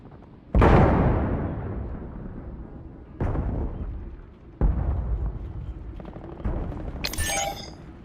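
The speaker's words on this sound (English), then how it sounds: "Enemy grenade." Grenade blasts in a first-person shooter video game, one loud close boom followed by three smaller successive explosions with rumbling decays, ending with a short bright high-pitched effect.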